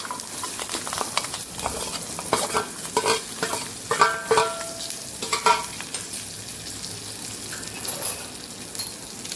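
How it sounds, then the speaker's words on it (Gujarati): Asafoetida and turmeric hit hot oil while tempering ivy gourd sambharo. The oil sizzles steadily, with bursts of crackling and scraping from stirring. "પાંચ ચમચી જેટલી હળદર ઉમેરી અને આપણે સંભારાનો વઘાર કરી દઈશું"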